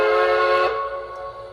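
Steam whistle of a Shay locomotive model with a TCS WOW sound decoder, a loud, steady multi-chime tone that swells briefly then drops and fades, heard alone.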